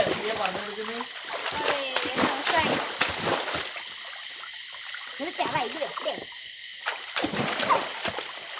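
Water splashes and sloshes in irregular bursts in a new home swimming pool, with voices talking and calling out over the activity.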